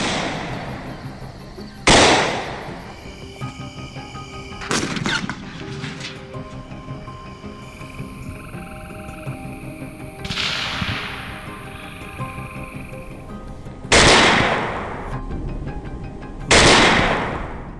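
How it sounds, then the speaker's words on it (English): Several sharp gunshots ring out across fields during a wild boar hunt, spaced several seconds apart, each a loud crack with a short echoing tail over faint background noise. "Gunfire erupts across the fields."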